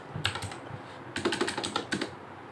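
Fingers typing on a computer keyboard in two quick bursts of crisp, close keystrokes with a short pause between them.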